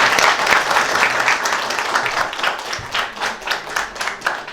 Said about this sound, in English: Let's give them a big round of applause as they finish the quiz.